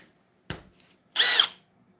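A cordless power drill set to drill mode at speed 2, running on a 4 amp hour battery, gives a short blip and then a louder whirring burst of under half a second, close by and alone.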